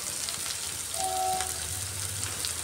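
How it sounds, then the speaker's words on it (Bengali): Onions frying in hot oil with a pinch of asafoetida, giving a steady, close sizzle with a soft crackling hiss that continues without a break. "পেঁয়াজটাকেও একটু ভালো করে লাল লাল করে ভেজে নিতে হবে"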